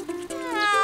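A cartoon cat gives a single drawn-out meow that rises in pitch and swells, close and clear in a children's animated show.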